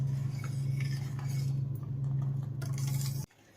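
A spoon stirs sugar into milk in a pot on the stove for cold cocoa, with soft clinking and scraping over a steady low burner hum that cuts off abruptly near the end.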